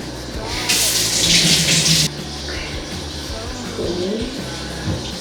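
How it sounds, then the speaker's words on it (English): A mango is rinsed under a running kitchen tap with a washing machine going nearby, giving a brief loud gush of water over a low machine rumble. "I got a mango. Let's wash it off and eat it."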